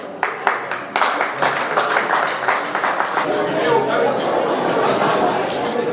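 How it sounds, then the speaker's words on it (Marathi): Applause rises from a crowd at a school batch reunion get-together, with some sharp early claps giving way to a dense, steady round of clapping mixed with chatter for several seconds. "जोरदार टाळ्या झाल्या पाहिजेत"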